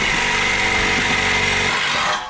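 A loud, harsh power drill grinds continuously at close range drilling into old exhaust metal, its buzzing motor roaring before easing off at the end.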